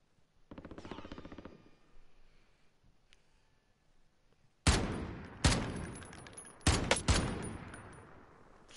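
Gunfire in Call of Duty Warzone: a rapid automatic burst, a pause, then several loud, sharp volleys of close shots crackling in quick succession.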